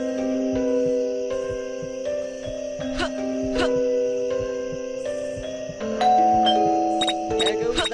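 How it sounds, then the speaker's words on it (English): A doorbell chime rings in the Scary Teacher 3D video game, sustained tonal ding-dong notes that repeat and layer over soft background game sounds. "Stupid bell again."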